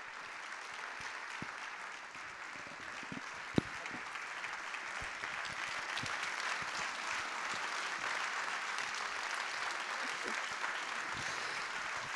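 Steady, fairly distant audience applause welcoming a singer at a literary gathering, a continuous wash of many hands with one sharp knock partway, gradually swelling louder toward the end.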